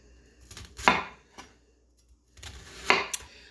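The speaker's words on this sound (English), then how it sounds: "you're going to cut each of these sections into 1/3" A knife chops through an onion on a board while sectioning it for a blooming onion, two sharp, crisp cuts with a few faint knocks in between, close and otherwise quiet.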